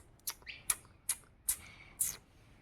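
House sparrows chirping indoors in a home, with five or six sharp, high chirps in an uneven rhythm, fairly faint and close, against a quiet background.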